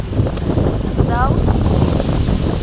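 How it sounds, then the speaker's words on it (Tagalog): Steady wind buffeting the microphone, a broad rushing roar that holds constant throughout, with a brief faint tonal chirp partway in. "sobrang hangin"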